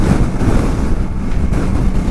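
Steady roaring wind buffeting a helmet-mounted microphone while riding a Kawasaki Versys 300 motorcycle, a constant low rumble with engine drone underneath.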